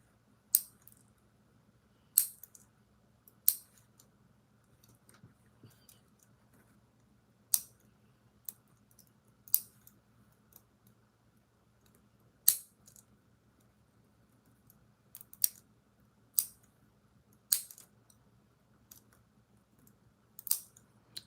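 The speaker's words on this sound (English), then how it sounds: "So I want to trim all the nails shorter." Gel nail extensions being trimmed short with clippers, a series of sharp, isolated snips spaced a second or two apart over near silence.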